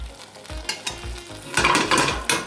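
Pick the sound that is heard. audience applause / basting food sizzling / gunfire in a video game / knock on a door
basting food sizzling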